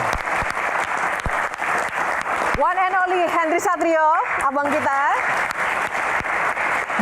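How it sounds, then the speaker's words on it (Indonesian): Studio audience applause for panelists on a televised Q&A talk show: steady, dense clapping runs throughout, with a host's voice speaking loudly over the middle stretch. "Yang pertama kita berikan tepuk tangan untuk Kang Maman."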